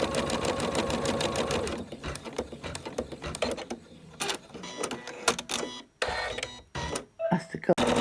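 An embroidery machine stitches a Christmas angel on a small setting at about 400 stitches per minute, a steady rapid mechanical whir for the first two seconds, then broken into clicks and short bursts.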